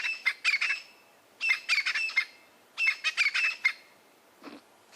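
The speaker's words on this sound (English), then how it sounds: "There's even a Francolin who's just arrived as well on the scene. Hear them chirping away." Francolins on a safari call in three loud, repeated bursts of harsh, rattling chirps, each burst separated by a pause, with a fainter low note near the end.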